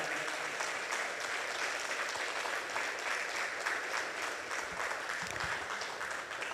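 A church congregation applauds steadily and fairly loudly, clapping dense and sustained with no pauses, a few voices faintly mixed in.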